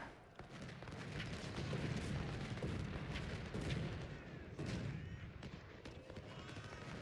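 Cannon and artillery fire during a battle in the Ultimate General: Civil War video game, Confederate campaign: a dense, continuous barrage of booms and crackling shots at steady loudness for the whole stretch, with no talk over it.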